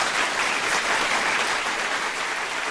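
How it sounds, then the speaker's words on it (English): An audience at a community talk show applauds a guest, with dense, sustained clapping from a crowd that is loud and even throughout. "the people like you, so they clap"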